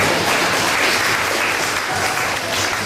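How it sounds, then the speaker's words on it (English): Wedding party guests applaud together in a steady burst of clapping that fills the room, loud and continuous from start to finish. "And you can clap there if you want."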